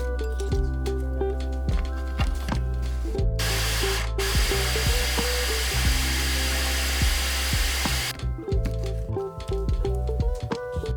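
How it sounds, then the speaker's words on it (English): A kitchen blender runs while blending spinach with egg yolks, whirring steadily with a louder burst of higher-pitched churning in the middle before settling back, with no one speaking. "Right now, we need to blend the spinach with the egg yolks."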